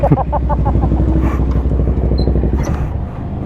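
A scooter engine drones steadily at close range, its pitch wavering as it rolls past, with faint voices in the background.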